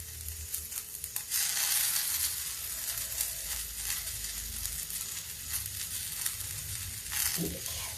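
Chopped tomatoes dropped into a hot pan for a whole moong and masoor dal tadka, sizzling loudly and steadily with a few stirring scrapes, close up and without talk.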